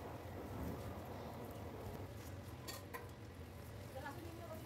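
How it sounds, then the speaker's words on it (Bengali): Chana dal kachori deep-fry in a kadai of oil, a low, constant bubbling rumble with a few light metallic clinks of a utensil near the end. "এরকমভাবে আমি সবকটা কচুরি ভেজে নেব"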